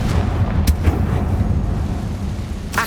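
A fiery Confringo spell blast in Hogwarts Legacy, rendered as a heavy rumbling explosion with low booming texture and a sharp crack near the start and another at the end.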